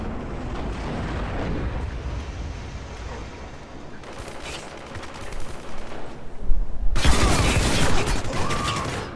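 Shotgun blasts and surrounding gunfire in a Spec Ops: The Line multiplayer match, loud, dense bursts that swell into a heavy barrage near the end, with no talking.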